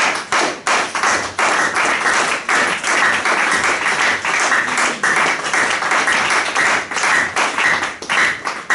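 A church congregation applauds loudly and steadily, many hands clapping together in a dense wash that lasts throughout without talk.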